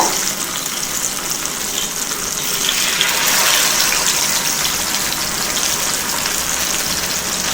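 Mackerel fish pieces sizzle in hot oil on a tawa, a steady loud hiss of frying that swells slightly midway and continues without break.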